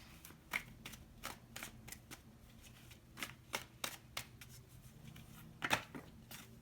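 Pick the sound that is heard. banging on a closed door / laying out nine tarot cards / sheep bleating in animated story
laying out nine tarot cards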